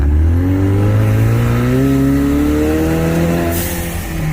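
Ford Mustang fitted with a Euro Arts aftermarket exhaust revs loudly up close, its deep engine note climbing and falling in smooth sweeps before easing off near the end.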